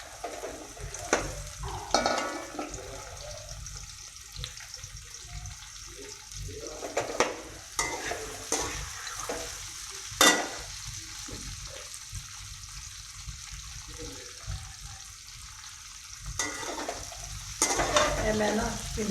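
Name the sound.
okra frying in oil in a kadhai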